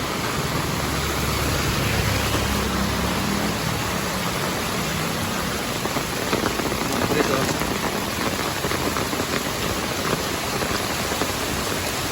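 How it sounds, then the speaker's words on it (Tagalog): Heavy, steady rain pours down during a southwest monsoon storm in a flooded residential area, a dense continuous wash of drumming water filling the whole stretch with no letup. "Tuloy-tuloy pa rin yung buhos ng ulan."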